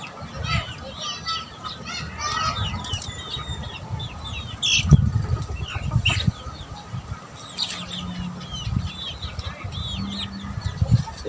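Fighting roosters cluck and squawk in irregular bursts, mixed with sudden flaps of wings and background rustling, close by, while people talk intermittently.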